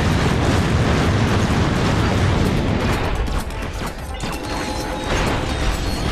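Rapid, dense firing of a fusion rifle in Ratchet: Deadlocked, a loud continuous mechanical clatter and crash of shots filling the whole stretch with no speech.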